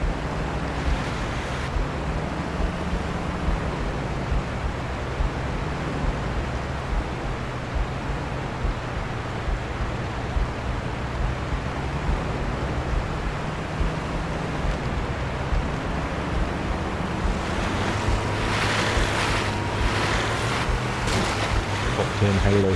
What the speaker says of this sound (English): it's cool that they bothered to have like this forking waterfall bit